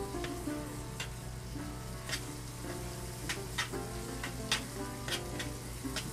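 Roux being stirred into a pot of South Texas style turtle soup, soft repeated scraping strokes over a low steady hum and gentle simmer, fairly quiet.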